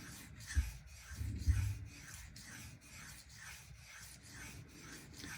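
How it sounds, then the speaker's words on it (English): Steady back-and-forth rasping of a knife blade worked across a pdTools 650 grit diamond bonded stone while sharpening the whole bevel, a close, even rubbing rhythm with slightly heavier strokes near the start. "I'm going to go ahead and sharpen the whole bevel"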